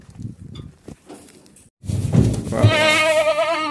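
Kathewadi goat at a goat farm giving a loud, wavering bleat in the second half, preceded by quieter rustling and background noise.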